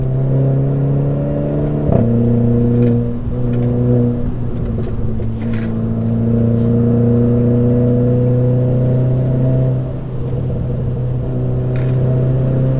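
Inside a Renault Clio 4 RS Trophy carrying four people, the engine drones steadily while driving, with a quick shift in pitch early on, then a sustained, loud hum that rises and dips slightly with the throttle.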